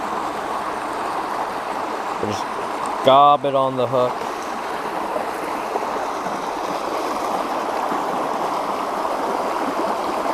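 A waterfall beside a fishing spot pours in a steady, loud broadband rush that fills the whole stretch, with someone talking briefly over it near the start.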